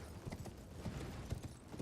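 Horse hooves clip-clop in a steady, walking rhythm in the video game Elden Ring, faint and low in level, without voices.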